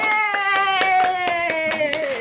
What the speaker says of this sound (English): We'll clap. Yay!